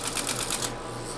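Typewriter output from a Bendix G15 vintage computer, a quick burst of about five or six rapid mechanical key strikes close by, followed by a quiet hum from the machine.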